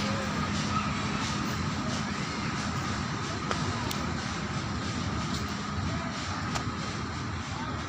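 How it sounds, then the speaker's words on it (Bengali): A train passes as a steady, broad rumble with a faint rail clatter that holds evenly throughout, fairly distant and without a clear rise or fall. "ওই যে ট্রেন যাচ্ছে"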